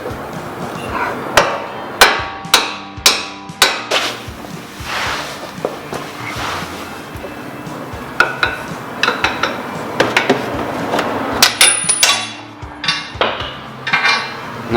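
Metal hammer blows knocking loose the suspension bolts on a Scion FR-S/BRZ during a coilover install, loud sharp strikes in irregular bursts with clinks and shuffling of tools between hits.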